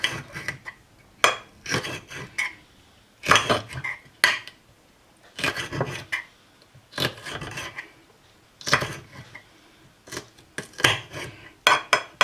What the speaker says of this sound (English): Now, I usually cut off the tips of the peppers.